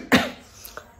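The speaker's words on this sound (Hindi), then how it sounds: "सबसे पहले तो मुझे शायद खांसी हो रही है और ठंड भी लग रहा है" A single sharp cough near the microphone, followed by a faint second throaty sound, with no talking.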